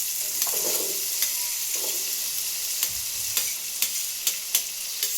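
Onions and green chillies fry in oil with ginger for a village-style palak paneer, a steady close sizzle broken by sharp scraping stirs and clacks of a spatula, with no talking.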